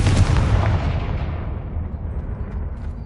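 A Confringo fire spell bursts in the Hogwarts Legacy game, a loud close explosive boom that rolls off into a fading rumble over about three seconds.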